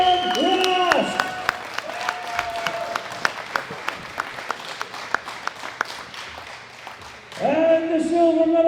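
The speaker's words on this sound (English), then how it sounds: "A big round of applause for Sian Ross." Scattered hand clapping at a world classic powerlifting championship medal ceremony, distinct claps in a loose rhythm between bursts of amplified music at the start and end.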